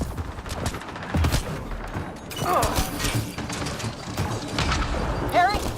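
Gunfire from the Mass Effect: Andromeda video game rattles in repeated bursts alongside mechanical thumps, whooshing effects and electronic warbles, while characters shout and talk over the combat.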